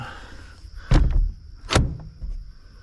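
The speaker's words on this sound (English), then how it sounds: "Close the door up." A wooden chicken coop door is shut for the night with two solid knocks close by, a first thud and then a louder clunk a moment later, followed by a faint rattle and no talking.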